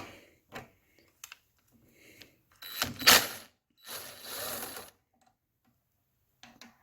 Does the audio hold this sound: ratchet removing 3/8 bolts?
yes